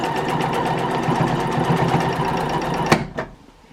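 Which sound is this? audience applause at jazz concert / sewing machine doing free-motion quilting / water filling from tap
sewing machine doing free-motion quilting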